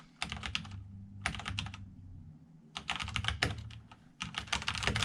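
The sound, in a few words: typing on Corsair K63 wireless keyboard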